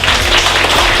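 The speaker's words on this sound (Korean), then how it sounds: "박수 부탁드립니다" A dense, loud burst of applause from a worship-service crowd celebrating a prize draw winner, a continuous wash of many hands clapping together with no gaps.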